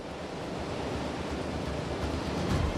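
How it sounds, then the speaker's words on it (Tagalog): Strong rain and wind sweep across Pangasinan in a continuous, loud, broadband roar that builds slightly toward the end, with low gusty buffeting and no voices. "ngayon malakas pa rin yung ulan at hangin dito sa Pangasinan"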